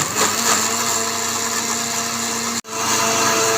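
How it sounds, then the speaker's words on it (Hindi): A countertop blender whirs loudly and steadily, blending jamun fruit, milk and ice into a shake, with a brief cut in the motor before it roars back up; no one talks. "चलिए ब्लेंडर लगाते हैं"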